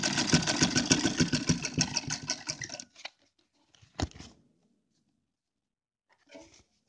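A sewing machine runs a rapid, rhythmic stitching burst for about three seconds while fabric for a deity's dress is sewn, then stops, leaving a few faint clicks and handling sounds.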